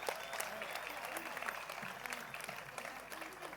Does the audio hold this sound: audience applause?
yes